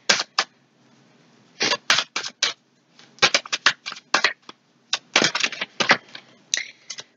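Oracle cards being shuffled by hand, a run of crisp riffling bursts and short flicks in uneven clusters, close and fairly quiet, with no voices.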